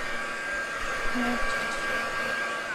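A hair dryer blows close and steady over a mixed media piece, drying wet paint with a continuous whirring hiss that holds an even level throughout.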